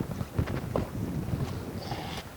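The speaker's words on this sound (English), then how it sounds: "we got a nice, strong east wind this morning" Strong east wind on a lake during a cold-front muskie fishing trip, a steady low rumble of gusts buffeting close by with faint knocks, no talking.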